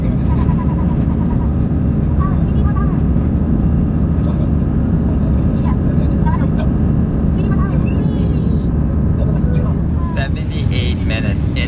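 Airplane taking off on the runway, heard from inside the cabin as a loud, steady engine roar and rumble throughout, with voices talking over it.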